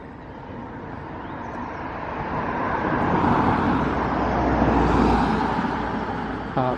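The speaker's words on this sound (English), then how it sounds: "apart from the noisy cars" Cars pass along a road in a village setting, a steady rolling traffic roar that swells and fades as vehicles go by, with no talking.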